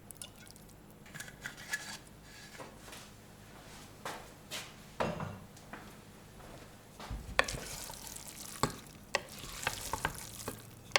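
Beluga lentils being stirred into olive oil in a pan, with soft scraping and shuffling strokes coming in irregular bursts, quiet overall and close by, with no talk.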